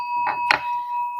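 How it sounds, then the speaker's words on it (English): A hand bell is rung in a quiet room, giving two bright metallic strikes about a quarter second apart, the second louder, each leaving a steady sustained ring. "I'm just going to ring my bell"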